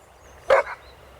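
A single dog bark rings out in a park, one short, fairly loud burst standing alone against quiet outdoor background.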